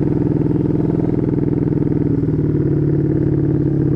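A Honda Beat ESP 125cc scooter fitted with an Empush EM1 round aftermarket exhaust idles and rumbles close by, a steady, throbbing pulse with a deep, loud tone and no talk over it.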